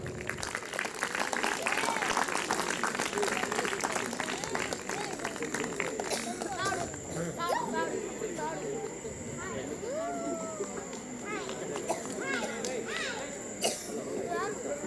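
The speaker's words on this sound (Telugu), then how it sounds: "ఒకసారి గట్టిగా చప్పట్లు కొడదామా?" Church audience at a Baptist Christmas celebration in Kaza claps loudly in a dense, sustained burst of applause that thins out after several seconds, with voices and chatter over it.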